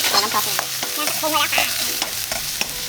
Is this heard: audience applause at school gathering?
no